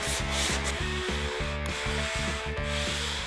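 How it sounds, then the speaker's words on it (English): A soft sanding pad with sandpaper rubs back and forth over cured body filler on an amplifier rack, in steady rhythmic strokes, close and continuous with no talk. "So I'm going to be using one of these soft sanders."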